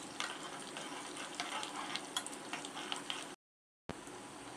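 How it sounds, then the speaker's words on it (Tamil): Cashews and raisins stirred in a hot pan with ghee for red poha laddu, a low steady sizzle with light scraping of a ladle, faint and close, briefly cut to silence before resuming, with no voices. "நல்லா கிண்டி விடுங்க."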